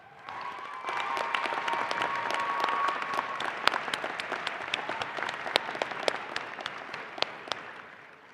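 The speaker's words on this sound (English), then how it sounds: "Please take a moment to thank them with a round of applause." Sustained applause from a large graduate commencement audience, building quickly and holding steady with sharp individual claps standing out before tapering off, with no talking over it.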